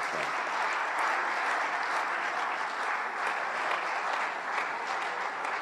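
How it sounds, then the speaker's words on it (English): An audience at a New Year ceremony for ambassadors applauds in a dense, even roar of clapping that holds steady for several seconds, full and close, with no speech over it. "Please, another round of applause to the Dean of the Diplomatic Corps."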